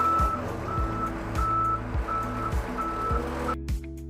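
A backhoe loader in reverse gear sounds a loud, evenly spaced electronic backup beep, about six pulses over a low diesel engine rumble, before the beeping and engine cut off near the end.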